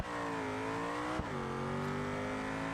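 Race car in the BeamNG driving game, loud engine howling as it accelerates hard, pitch climbing steadily with a quick gear shift midway before rising again, close and alone.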